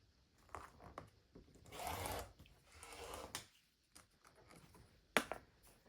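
A rotary cutter rolls through quilt fabric along a long ruler on a cutting mat, with two faint drawn-out cutting strokes, soft rubbing and handling, and a sharp tap near the end.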